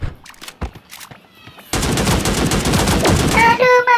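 Rapid gunfire in the battle royale game Sausage Man, starting with a few scattered sharp shots, then a loud dense burst of automatic fire that runs for over two seconds, ending with bright ringing tones.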